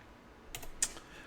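Function keys pressed on a computer keyboard, two quick clicks in close succession, the second sharper, heard close and alone in a quiet room.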